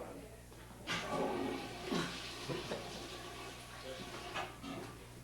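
An old toilet in a remodeled bathroom at Pacifica Castle flushes with a rushing, gurgling surge of water that swells and fades over several seconds, heard at moderate distance.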